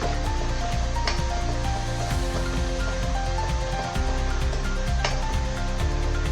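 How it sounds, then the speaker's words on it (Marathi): Ginger, garlic and green chilli paste with coriander stirred and sautéing in hot oil: a continuous, fairly loud sizzle with faint scraping, steady throughout and without any voice. "अद्रक लसूण आणि हिरवी मिरचीची पेस्ट टाकून घेणार आहे. चांगली परतवून घेणार आहे."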